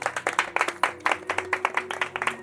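Church congregation clapping for a couple on their wedding anniversary, a lively burst of many hands clapping together in uneven rhythm, close and moderately loud.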